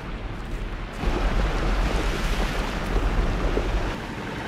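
A chocolate waterfall inside a chocolate factory churns the melted chocolate, giving a steady, broad rushing roar that swells after the first second and holds on, with no voices.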